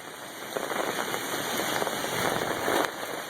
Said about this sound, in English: Looks like the raindrops are getting kind of heavy.